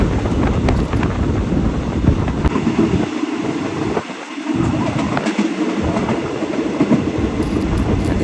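Passenger train number 211 rounding a curve toward Ayutthaya station in Thailand, heard from aboard as a loud, constant rumble of wheels on rails with rhythmic clatter and brief dips as it crosses a canal.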